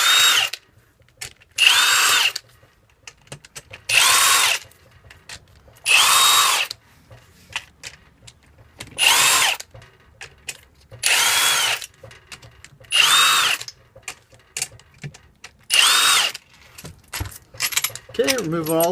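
Power tool, likely an impact gun, zipping out the transmission case bolts of a Honda S2000 AP2 during a gearbox rebuild: about eight loud, separate bursts of a couple of seconds each, spaced by short pauses, with faint clinks in between and no speech.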